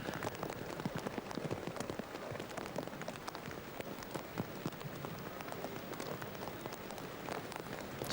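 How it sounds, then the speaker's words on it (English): Steady rain falling outdoors at an open-air show jumping competition in San Patrignano, Italy, a dense continuous patter of drops on surfaces, evenly loud throughout with no voices. "Sometimes horses don't like the rain"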